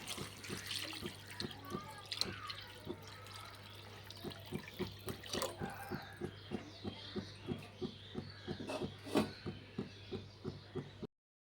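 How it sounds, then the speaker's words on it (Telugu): Water pours steadily into a cooking pot of rice for egg biryani, with a soft rushing stream and a faint regular ticking underneath, then stops abruptly near the end. "ఆరు గ్లాసులు వాటర్ పోస్తున్నా దీంట్లో"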